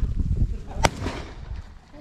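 A single rifle shot fired while hunting in Mangystau, Kazakhstan, cracks sharply midway through, standing out over a low rumbling outdoor background with faint voices.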